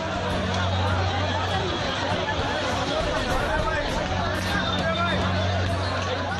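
A large crowd of thousands of unemployed job seekers in Gujarat fills the air with a dense, continuous hubbub of overlapping voices, steady and close throughout, with no single speaker standing out.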